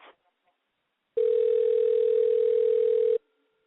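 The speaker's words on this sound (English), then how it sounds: "I like the phone ring sound, like an effect." A steady telephone ringback tone sounds during a call placed live on a radio show. It is one loud, even tone lasting about two seconds, following a moment of quiet.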